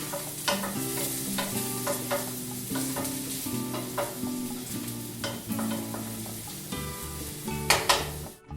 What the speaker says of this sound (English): Now we're going to add our onions. We're going to cook those until they're nice and glassy and soft.